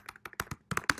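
Keystrokes tapped out on a computer keyboard in quick irregular bursts, close and fairly soft, with short pauses between clusters of clicks.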